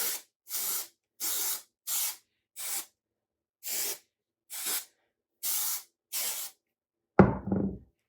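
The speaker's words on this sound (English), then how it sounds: "And I'm just using Amika's Headstrong hairspray." Amika Headstrong hairspray sprays in nine short, even hissing bursts, close and alone, with a brief clatter as the can is set down at the end.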